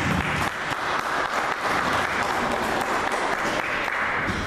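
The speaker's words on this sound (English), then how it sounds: "Can we give him another round of applause" Sustained, dense applause from attendees at a municipal stakeholder consultation in Okahandja, a steady wash of many clapping hands with even loudness throughout and no speech.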